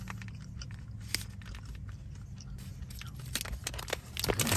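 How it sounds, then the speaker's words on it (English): Close, crisp crunching as someone bites and chews a Thunderbird cashew fig carrot superfood bar, with irregular crackling bites that grow louder toward the end. "You're crunching into it and it's good."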